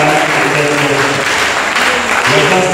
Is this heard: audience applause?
yes